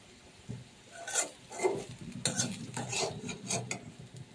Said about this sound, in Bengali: পেঁয়াজ ভাজাটা কমপ্লিট হয়ে গিয়েছে, এখন আমি এগুলো তুলে নিচ্ছি।